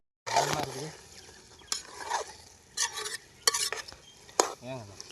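Chicken for biryani sizzles in a pot over a wood-fire stove while a spoon scrapes and stirs it in several uneven bursts, heard up close with some talking in the background.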